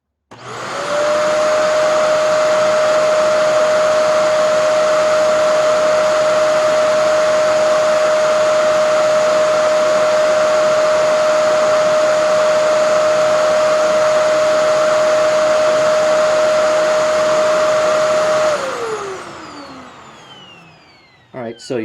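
A Shark Rotator XL NV90 vacuum runs with its brush roll switched off, a loud, close, steady motor whine with a constant pitched tone and airy rush that holds for about eighteen seconds before spinning down.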